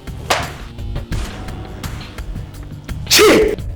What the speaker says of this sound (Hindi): ये वही छींक है जज साहब, ये वही छींक है।